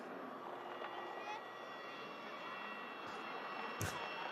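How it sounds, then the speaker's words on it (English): Distant, steady jet roar of a Pilatus PC-24 arriving at Manchester Airport in snowy weather, faint and sustained with a brief thump near the end and light talk nearby. "PC-24 arriving in at Manchester Airport"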